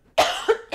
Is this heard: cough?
yes